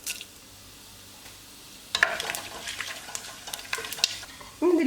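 Whole spices such as cinnamon, star anise, peppercorns and fennel dropped into hot oil for chicken biryani, a faint quiet sizzle that turns louder and crackly as they land, with brief clinks and a short burst at the end.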